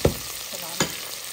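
A masala of yogurt and tomato fries in a pan, a soft sizzle broken by two sharp spoon knocks against the pan, quiet and close.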